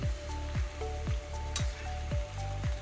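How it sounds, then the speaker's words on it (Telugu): Mysore bonda batter balls sizzling and crackling steadily in hot oil in a home kitchen, a continuous close fry with periodic soft thuds and small spoon clinks, no talking. "ఇలా ఎర్రగా వేయించుకోవాలి."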